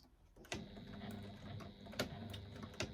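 A sewing machine stitching quilt pieces with a 1/4 inch seam allowance, a faint steady mechanical hum with soft periodic clicks, heard alone and quiet.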